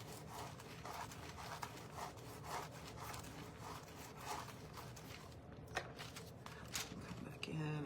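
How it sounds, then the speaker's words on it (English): A brush scrubbing over metal foil laid on a surface, a continuous close scratchy rubbing with rhythmic strokes throughout. "give it a little scrub"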